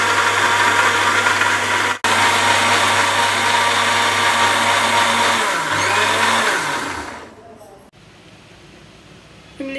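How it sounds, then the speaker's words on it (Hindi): Blender grinding tamarind chutney with salt, spices and a little water, a loud steady motor whir with a low hum that slows and winds down, then stops near the end. "ब्लेंडर में डालकर अच्छे से पीस लें।"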